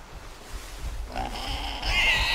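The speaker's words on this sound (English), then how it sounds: "There's a pig there." A pig in the Bigfoot video game grunts and oinks in a short burst at moderate loudness, rising into a louder squealing grunt near the end, with no talk over it.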